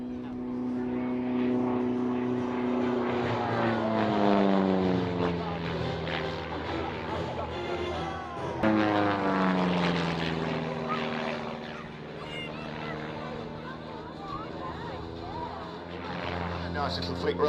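Propeller aerobatic plane rigged with smoke gear taking off gently and climbing at the Tatenhill Air Display, July 2013, a droning engine rising and falling in pitch as it passes, with a commentator talking over it.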